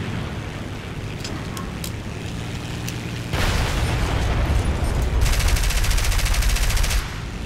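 Ground anti-aircraft artillery targets open fire in War Thunder. A low engine drone with sparse shots gives way to a loud rumbling barrage, then to rapid, dense bursts of automatic gunfire before it eases off.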